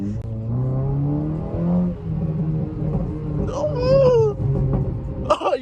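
A loud car revs hard in a steady rumbling drone, with short crackling pops from the exhaust near the end as the engine note climbs and falls; people talk over it.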